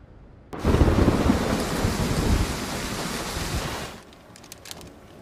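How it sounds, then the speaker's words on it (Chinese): A heavy downpour with thunder bursts in loudly after a quiet start: a dense roar of rain and rumbling holds for about three seconds, then falls away to faint patter. "下这么大雨"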